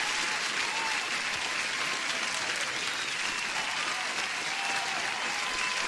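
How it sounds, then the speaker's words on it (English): Loud, dense applause from a crowd, a continuous clatter of many hands clapping without pause. "Applause to Trader Oracle."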